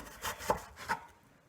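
A knife slices an onion into thin slices on a board while a grilled pork steak dinner is prepared: three crisp, close cuts about half a second apart, then quiet, with no talking.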